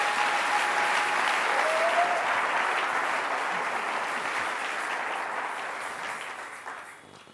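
A church congregation at a French-language service breaks into sustained, dense applause that fills the room, holding steady before slowly fading out.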